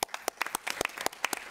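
Scattered hand clapping from a small group, brief and irregular, close and fairly light, with no voices over it.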